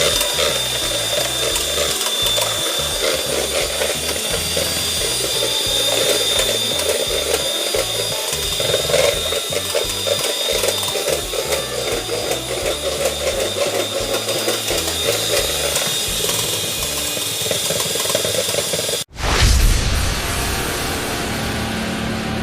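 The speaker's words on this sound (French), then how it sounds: "on va monter la crème en chantilly à l'aide du batteur électrique" An electric hand mixer whips cream into chantilly, giving a continuous loud whirring, buzzing drone with gear-like rattle that runs steadily before cutting off abruptly near the end.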